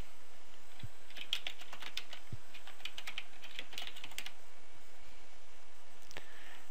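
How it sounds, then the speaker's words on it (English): Computer keyboard keys tapped as a password is entered to log in to a Cisco Unified Communications Manager server: a faint, irregular run of soft clicks, close by and otherwise quiet. "I guess it would help if I typed the correct password."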